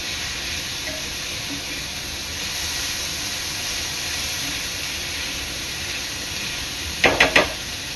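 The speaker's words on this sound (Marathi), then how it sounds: "टोमॅटो चांगला शिजून घ्यायचा आहे" Tomatoes sizzling steadily in a pan while cooking for a crab burji, with a continuous broadband frying hiss throughout and a few quick scraping or stirring clatters near the end.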